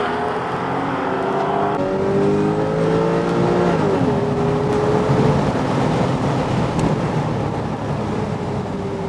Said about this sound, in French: On va entendre le moteur surtout.